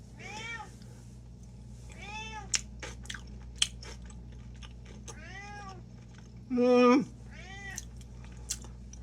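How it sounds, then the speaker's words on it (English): Housecat meowing repeatedly in a home kitchen, a series of drawn-out, rising and falling calls close by, one louder yowl standing out, with small clicks and quiet room noise between. "the cat yelling like this is not one of the things that causes me to have anxiety"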